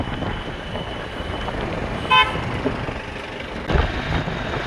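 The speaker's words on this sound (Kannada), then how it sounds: "ನೋಡು, ಇದೆ ಭದ್ರಾವತಿ ಬಸ್ ಸ್ಟ್ಯಾಂಡು" A vehicle horn gives a short toot over a steady traffic rumble at Bhadravati bus stand, followed by a brief thump a moment later, with the background noise continuous throughout.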